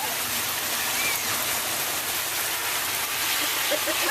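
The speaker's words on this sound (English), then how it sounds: "Look at that water coming up here" Flash flood water rushes steadily through heavy rain, a dense, continuous broadband roar close by with no letup.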